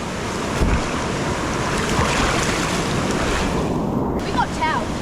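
Torrential rain and the rushing water of Waiere Falls make a loud, steady broadband roar that never lets up, with wind buffeting the microphone and a few faint high squeaks near the end.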